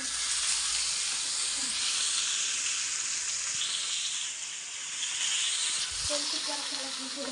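Fish sizzle steadily in a pan of hot oil, a loud, continuous bright hiss with a faint clunk near the end and a quiet voice underneath.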